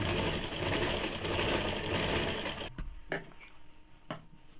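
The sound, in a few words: sewing machine stitching a blouse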